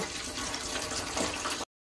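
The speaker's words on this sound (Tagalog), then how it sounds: "maglalagay na po tayo ng tubig sa kaserola para pakuluan muna natin." Steady rushing of water pouring into a cooking pot for boiling, close and continuous, cutting off abruptly after under two seconds.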